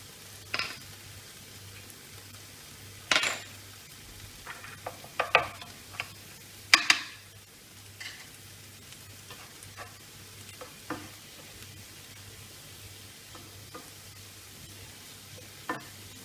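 Beef sirloin cooking in a pan, with a soft steady sizzle and intermittent scraping stirs of a utensil against the pan, a few louder clanks standing out, no talking.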